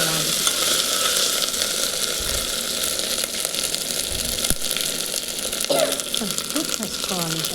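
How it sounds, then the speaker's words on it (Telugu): Ginger garlic paste sizzles and fries in hot oil in a pan, a steady close crackle with occasional stirring scrapes while someone speaks over it. "అవి వేగిన తర్వాత అల్లం వెల్లుల్లి పేస్ట్ వేసుకొని పచ్చివాసన పోయేంత వరకు వేయించుకోవాలి."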